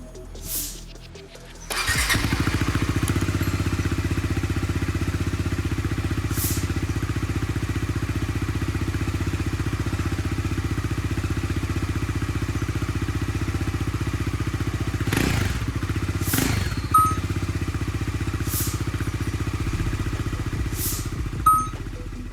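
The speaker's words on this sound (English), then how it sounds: "Before fixing the gasket leak, let's hear out the exhaust note." A Bajaj Dominar 400 motorcycle with a leaking muffler gasket starts up and settles into a steady, loud idle, a few clinks and taps sounding over the exhaust drone.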